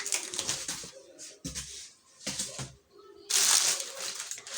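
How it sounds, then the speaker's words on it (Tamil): Cardboard packaging for a Panasonic home theater sound bar system with touchpad controls being opened up close: several sharp, crinkly tearing and scraping bursts separated by short pauses, with a louder rustle near the end and no talk. "பாக்ஸ் வந்து ஓப்பன் பண்ணலாம்."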